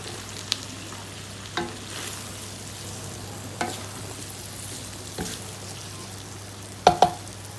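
Sambal goreng paru, a dry chilli and coconut-milk sambal with beef lung, is stirred in a pan, with a low steady sizzle broken by a few sharp scrapes and clinks of the spatula against the pan, the last two coming close together.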